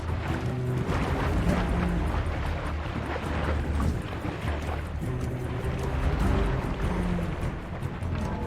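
Steady rushing water flows continuously in an underground power room in Horizon Forbidden West, a broad, even wash of current with low rumble and no clear pauses.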